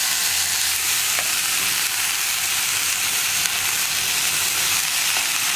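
Shredded cabbage stir-frying in an oiled pan for Kerala-style mezhukkupuratti with Kashmiri chilli powder, a loud, steady sizzle and hiss that runs unbroken throughout.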